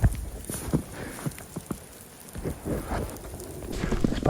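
Heavy rain pattering and dripping in the woods, close and uneven, with scattered louder drops and light rustling.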